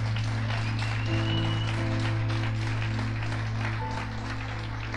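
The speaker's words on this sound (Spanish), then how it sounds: "apláudele fuerte al Señor" A church congregation applauds, a dense, loud patter of clapping. Sustained organ or keyboard chords and a low hum play under it.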